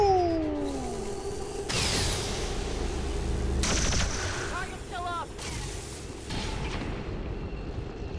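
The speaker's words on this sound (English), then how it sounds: "So many shots from one alien?" XCOM 2 battle noise as an alien opens fire, with several heavy booming bursts of gunfire and mechanical clatter rolling over a steady game soundscape.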